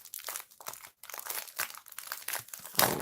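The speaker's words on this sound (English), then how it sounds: "let's remove it out of the plastic bag" Plastic bag wrapping a book crinkles and crunches in a dense run of crackles, with a brief pause and a sharper crackle at the end, close and fairly loud.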